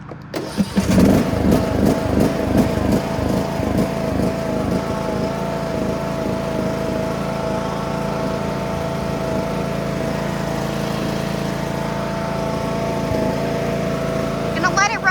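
John Deere D100 ride-on lawn mower, just after an oil change: the engine cranks, catches and revs, then settles into a loud, steady mid-pitched idle running close by for over ten seconds.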